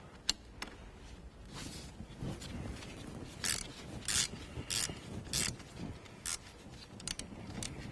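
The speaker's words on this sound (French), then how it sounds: "Nous allons dévisser le boulon de disque qui se trouve ici à l'aide du cliquet." Ratchet working a brake disc bolt loose on a Renault Clio 3 dCi, heard as quiet bursts of clicking spread across the clip over a low background hum, with no voices.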